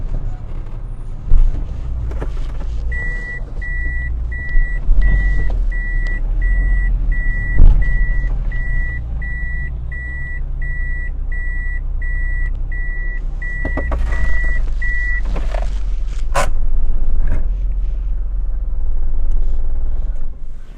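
A car rolls past outdoors with a rumbling engine while a regular series of reversing beeps repeats for about twelve seconds, followed by a few sharp knocks and continued low traffic rumble.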